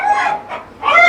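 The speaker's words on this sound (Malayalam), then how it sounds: "കോഴികളുടെ യുദ്ധം." Chickens squabble at a flower show in Wayanad, giving a short burst of loud, harsh clucks and squawks, a brief dip, then another close, agitated outburst.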